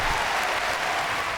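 An audience at a comedy festival gala breaks into dense, close applause, a steady wash of clapping that fills the whole short moment without a pause.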